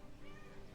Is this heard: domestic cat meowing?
yes